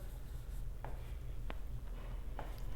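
Chalk or a marker writes an equation on a board during a differential calculus lecture. A few faint, brief scratchy strokes sit over a steady low room hum.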